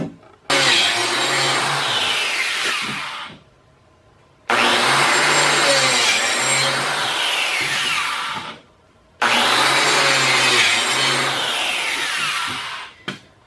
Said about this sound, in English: I like using the biscuit joiner. It's a lot faster than using dowels.